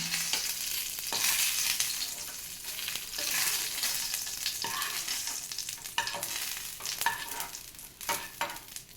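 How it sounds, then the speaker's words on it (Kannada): Dry fruits fry in hot ghee in a pan, giving a steady bright sizzle throughout with repeated scraping and stirring strokes of a spoon against the pan. "ಡ್ರೈ ಫ್ರೂಟ್ಸನ್ನು ಬಿಸಿ ಮಾಡಿ ಒಂದು ಬೌಲಲ್ಲಿ ತೆಗೆಯೋಣ."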